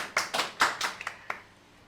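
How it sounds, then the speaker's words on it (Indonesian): A brief burst of applause from a small audience at a Sundanese stand-up comedy podcast: a handful of quick, moderately loud claps that thin out into a few isolated taps, with no talk over them. "Tepuk tangan."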